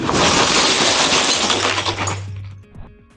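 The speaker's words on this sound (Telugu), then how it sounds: "దాంతో ఒక్కసారిగా గ్లాస్ డోర్ బద్దలైంది." A glass door shatters as a goat charges into it: a loud burst of breaking glass followed by tinkling fragments settling and fading away.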